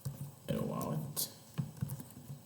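Computer keyboard key presses, including the enter key, heard as a few soft, quick clicks beneath a person talking.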